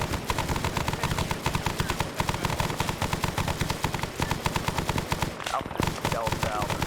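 Sustained automatic gunfire in a Vietnam War video game, a loud, rapid machine-gun rhythm with overlapping bursts and steady rattling volleys throughout, while someone talks over it.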